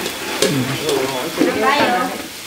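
Coconut milk is added and stirred in a cooking pan, giving a close sizzle with scraping stirring strokes while voices talk over it.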